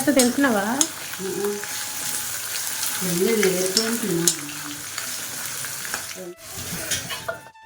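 Peanuts crackle and sizzle in a hot oil tempering for mango pulihora, a busy close frying sound with stirring clatter, while a person speaks briefly over it at moments.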